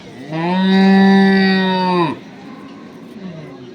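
A dairy cow at the Ambari cattle market in Dinajpur gives one long, loud, close moo lasting nearly two seconds, followed by faint background murmur.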